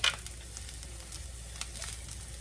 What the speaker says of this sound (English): First thing I want to do is we're going to put these onions and jalapenos off in here